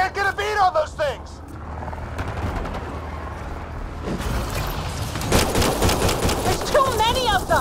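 Rapid gunfire bursts and explosive cracks in the Mass Effect: Andromeda video game, loud and dense under frantic shouted voices, with a sustained rattling barrage building toward the end.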